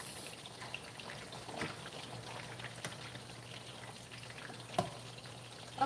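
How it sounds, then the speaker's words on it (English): Food frying in a pan on a home stove gives a quiet, steady sizzling hiss, with a few faint pops and crackles scattered through it. "Let's leave this to be frying"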